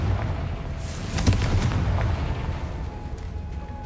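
The Confringo blasting spell in Hogwarts Legacy goes off as a booming burst with sharp cracks, followed by a rumbling tail that fades over a few seconds.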